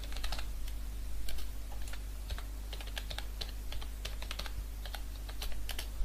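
Steady typing on a computer keyboard while a resume is written, with quick irregular clicks and short bursts over a low constant hum, nearby and moderately loud, with no talking.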